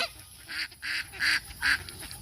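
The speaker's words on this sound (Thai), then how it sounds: "น้องจอย ให้อาหารเป็ด" Ducks and geese honk and quack in several loud, close bursts while being fed, with short pauses between calls and no talk over them.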